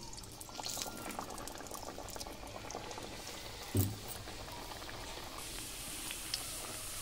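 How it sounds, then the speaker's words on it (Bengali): Pea-stuffed kachori frying in a pan of hot oil, a steady bubbling fizz that carries through the whole stretch with one brief louder clunk midway. "কচুরি ভেজে নিচ্ছি"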